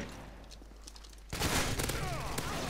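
Video game gunfire in close-quarters house-to-house combat, coming from several directions: faint scattered shots at first, then a sudden loud barrage of rapid automatic fire and impacts, with a voice speaking underneath.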